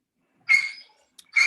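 A dog lets out a short high whimpering yelp, then a brief pause and another sharp cry, heard alone against silence during an online meeting.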